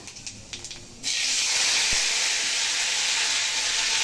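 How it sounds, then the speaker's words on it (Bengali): Panch phoron spices hit hot oil in a wok for a potato chorchori, bursting into a loud, steady broadband sizzle after a second of faint scattered crackles, continuing close and unbroken with no talking. "কড়াই তেল গরম হয়ে গেছে, পাঁচফোড়ন দিয়ে দিয়েছি আর টমেটো দিয়ে দেবো"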